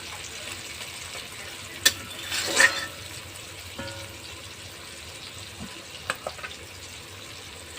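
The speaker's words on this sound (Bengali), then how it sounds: "পেঁয়াজটাকে ভালো করে ভেজে নিই" Onions frying in a pan for a vegetable and small-fish curry give a steady, soft sizzle throughout. A few brief clatters of utensil on pan stand out, with no talk.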